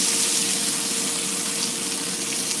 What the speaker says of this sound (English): I'm just grabbing frying bacon with my bare hand.